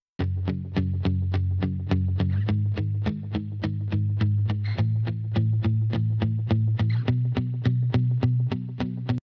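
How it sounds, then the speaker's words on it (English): Electric bridge guitar track from a pop mix, played dry with its plugins muted: a steady run of evenly spaced picked notes with a rhythmic, percussive attack and a low sustained tone underneath, clear and alone. "Then we have this other bridge guitar here, which launches the bridge before the chorus."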